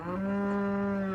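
A cow moos in one long, loud, steady lowing call close by on a farm, heard alone without talk.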